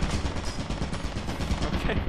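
An automated turret in the video game Lethal Company fires a rapid, continuous stream of shots for over two seconds, loud and dense like a machine gun.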